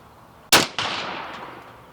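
A single sharp rifle shot cracks close and loud while a new GPO scope is being sighted in, followed by a quick second report and a decaying outdoor echo.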